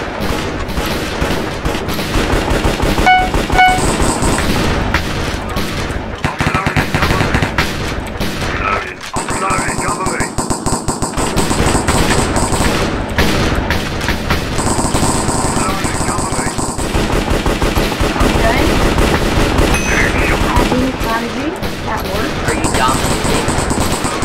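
A pump-action shotgun fires in Minecraft BedWars, with loud, rapid, repeated shots that pile up into nearly constant gunfire over a busy game mix as players talk.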